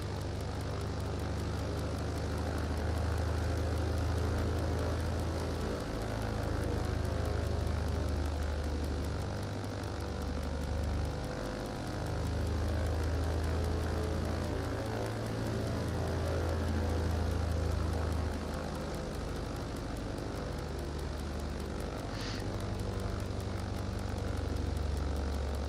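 A BN2 Islander propeller plane in Microsoft Flight Simulator 2024 drones with a steady, low engine hum and propeller buzz that swells and eases slightly throughout, with no talk.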